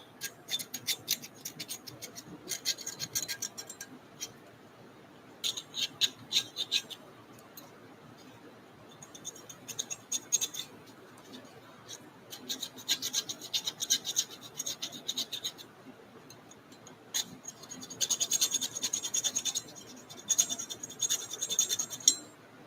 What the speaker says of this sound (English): Let's try to deburr any raised up spots.